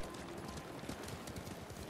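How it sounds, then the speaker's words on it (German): Horse hooves clip-clop steadily in the video game Ghost of Tsushima, a dense continuous gallop rhythm mixed with game ambience. "Da ist mein Pferdchen."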